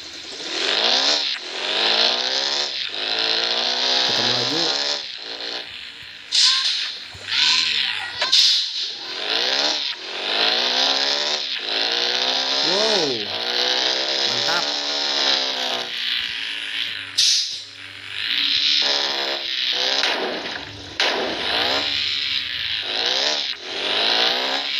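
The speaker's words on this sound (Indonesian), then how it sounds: "Keren sekali ini motor gerobak baksonya. Wow, suaranya" Motorcycle-powered meatball (bakso) cart engine in the Bus Simulator video game, a loud buzzing engine that revs up and down repeatedly across the whole stretch with rising and falling pitch sweeps, heard alone.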